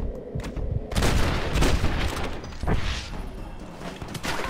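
Gunfire in the Western video game Red Dead Redemption, a loud, dense burst of overlapping shots and booms in rapid succession, rising and falling in intensity through the exchange.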